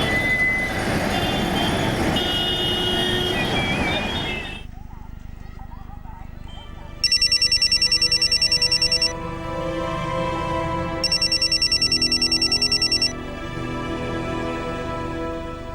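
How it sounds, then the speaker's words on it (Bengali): A telephone rings in two loud electronic bursts, each about two seconds long with a gap between them. The rings follow a stretch of speech and background sound and sit over a quieter ambient bed. "বারাণসী রেলওয়ে স্টেশন থেকে কেউ ফোন করে"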